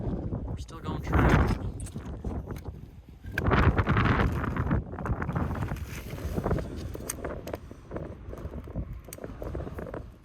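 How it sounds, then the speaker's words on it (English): Strong gusts buffet the microphone in loud, rumbling bursts that rise and fall, with people talking underneath. "it's not the first time it's been windy here"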